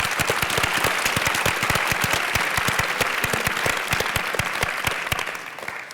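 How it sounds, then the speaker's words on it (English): Theatre audience applauding at a National Theatre event, a dense, steady round of clapping from a large crowd that carries on evenly and starts to fade toward the end. "I will ask you to give her a round of applause, because she is fantastic."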